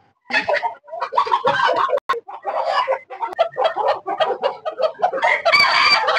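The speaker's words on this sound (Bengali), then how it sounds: "এই প্রজাতির মুরগি আমাদের দেশেও খুবই কমই দেখা যায়" Rare foreign-breed chickens cluck busily close by at a poultry farm, with a rooster's crow rising near the end, a loud, continuous barnyard chatter.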